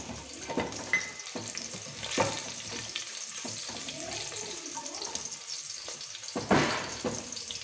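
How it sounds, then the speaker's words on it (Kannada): Dried red chillies crackle and sizzle in hot oil in a pan as dal tempering is cooked, a soft steady frying hiss with a few louder pops and clinks. "ಈಗ ಒಣಮೆಣ್ಸಿನ್ಕಾಯಿನ ಹಾಕ್ತಾಯಿದ್ದೀನಿ."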